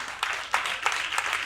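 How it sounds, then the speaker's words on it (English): Applause from the audience at the Africa Wedding Expo 2026, a steady wash of many hands clapping at moderate volume, with a few sharper claps standing out through the brief burst. "Ladies and gentlemen, please, can you give a round of applause?"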